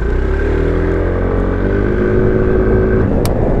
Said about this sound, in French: Ça va être un démarrage poignet dans l'angle.